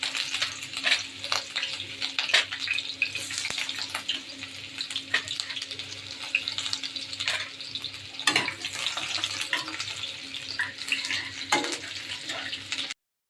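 Onions and a bay leaf fry in hot oil in a pan, giving a steady loud sizzle broken by scraping stirs and a few sharp clinks, with no voices.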